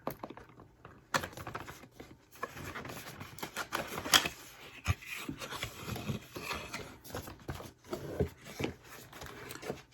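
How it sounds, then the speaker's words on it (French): Rustling, rubbing and tapping as a package holding a high-tech wine-tasting device is unwrapped, with irregular crinkles and small knocks close by that come and go in bursts throughout. "je vais déballer le paquet"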